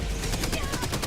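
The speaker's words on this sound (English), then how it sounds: "Gatling barrage wrecking him" Gatling gun barrage in a fast-paced video game, a dense, continuous burst of rapid automatic gunfire lasting about a second.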